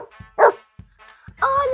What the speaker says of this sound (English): This is my dog, Brandy